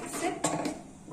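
A utensil stirs thick paneer butter masala in a metal pan after water has been added. It gives a brief run of soft scraping, with one sharper clink partway through.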